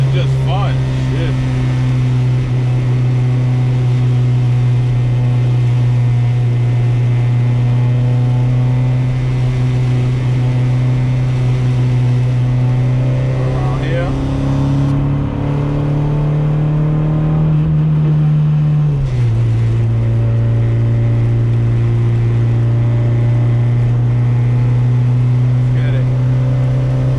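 A lowered Honda Civic EG engine drones loudly and steadily through highway pulls, its pitch climbing around the middle and then dropping sharply as the revs fall, with road and wind noise running underneath.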